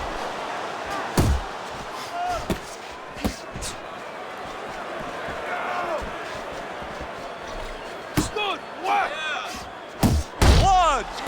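Punches land in a Shenmue 3 fight, heard as scattered heavy thuds and slams, some in quick clusters, under a busy crowd and commentary backdrop with a voice talking.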